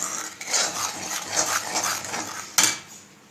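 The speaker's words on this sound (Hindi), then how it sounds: "तो हम इसको अच्छे से भून लेते हैं जब तक ये कढ़ाई छोड़ ना दें" Moong dal for laddu being roasted in a kadhai, with repeated metallic scrapes and clinks of a spoon against the pan, near and moderately loud, a sharper knock near the end.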